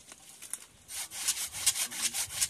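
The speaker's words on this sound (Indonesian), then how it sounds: "Kita melakukan secara pelan-pelan untuk menggergaji supaya koloni di dalamnya tidak terganggu dengan gesekan gergaji" A hand saw cuts slowly through a wooden log housing a trigona bee colony, giving steady rasping back-and-forth strokes, soft at first, then louder and regular, close by with no talk.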